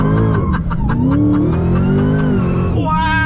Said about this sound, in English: we're going to turn around and see how we do from a dead stop, so give us a second. On throttle!